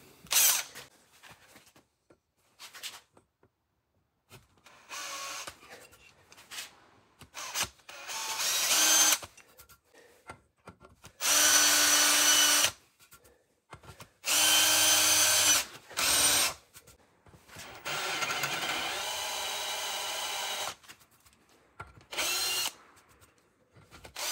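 Power drill boring a hole through corroded metal on a 1988 S15 pickup, first with a center drill then a drill bit, in several separate bursts of whining drilling with quiet pauses between.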